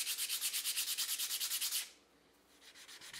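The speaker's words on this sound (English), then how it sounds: "The edges around the top get shaped with sandpaper too." Sandpaper rubbing the top edges of a walnut candle holder in quick, even back-and-forth strokes, steady for almost two seconds, then a pause before softer strokes resume.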